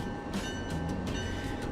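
Train rumbling steadily with a deep low drone, faint rhythmic clicks and a thin high whine on top, heard close and continuous throughout.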